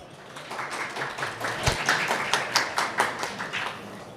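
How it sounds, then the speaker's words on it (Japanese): Audience applause greeting a speaker at a PyCon JP 2022 conference talk, a crowd clapping steadily at moderate distance for several seconds with a faint voice under it. "それでは堤さんを拍手でお迎えください"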